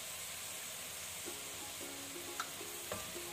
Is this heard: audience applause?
no